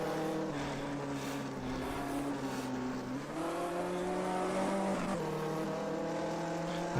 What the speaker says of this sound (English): I'm hearing the engine from behind